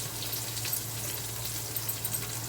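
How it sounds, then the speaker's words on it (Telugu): Onions frying in oil with green chillies, a steady broadband sizzle with a low hum beneath, continuous and fairly quiet, no voices. "ఉల్లిపాయలు వేగాలి"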